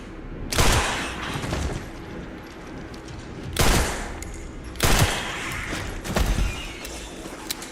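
Gunfire in Resident Evil Requiem: three separate loud bursts of shots spaced a few seconds apart, each sharp and booming over a constant rumbling game background.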